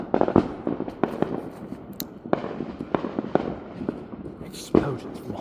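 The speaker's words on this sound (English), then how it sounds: "Explosions from all around. It's like a war zone." Fourth of July fireworks explode outside at night, sharp cracks and booms popping irregularly from near and far, with a few louder bangs and a voice talking between them.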